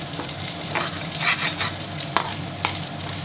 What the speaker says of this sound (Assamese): উল্টাই দিলোঁ বৰ ভাজিখিনি